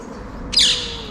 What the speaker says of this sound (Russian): и попугайчики.